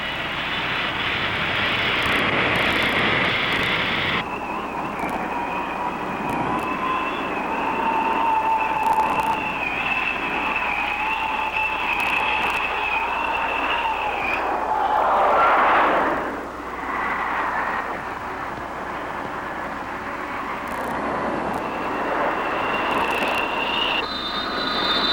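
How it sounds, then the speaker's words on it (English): An F-4 Phantom fighter jet engine roars loud and sustained, with a whining tone that shifts in pitch and swells midway as the aircraft passes. The sound comes from a 1999 VHS Vietnam air war documentary. "The Phantom, fast and versatile, will climb straight up from the deck to stand off an attack or penetrate deep to inland targets."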